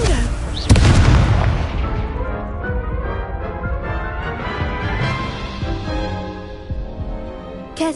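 The Incendio fire spell in Hogwarts Legacy goes off with a loud, close blast and a sharp crack, then a long rumbling decay with lingering ringing tones that fades over several seconds.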